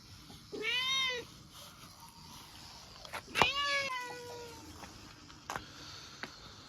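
Two clear, drawn-out meows from a nearby cat, separated by a pause, with a few faint clicks and rustles in a quiet room.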